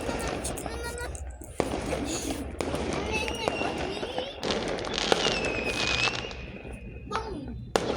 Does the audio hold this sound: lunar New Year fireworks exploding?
yes